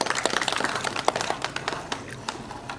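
Scattered hand clapping from a church congregation at a baptism service, light and uneven, a small group applauding briefly without talk.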